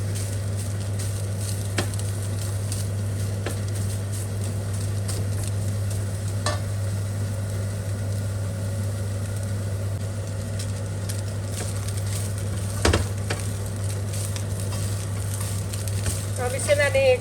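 Chicken browning in about a tablespoon of oil, a low, steady sizzle under a constant hum, with occasional sharp clicks from stirring.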